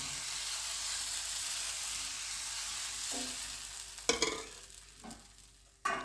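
Jackfruit being fried thin in a pan gives a steady, soft sizzle throughout, with a few sharp clatters of stirring near the end.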